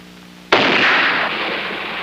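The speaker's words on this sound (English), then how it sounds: "the explosion on the left demolished that apparatus" A sudden violent blast as chemistry lab glassware explodes during an organic preparation using potassium perchlorate, one sharp loud crack followed by a roaring, slowly fading wash of noise, heard alone.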